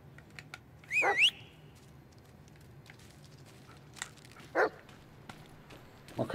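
A dog in the Blair Witch video game lets out a couple of short, sharp barks. The barks are spaced apart against a quiet, faintly humming background with small clicks.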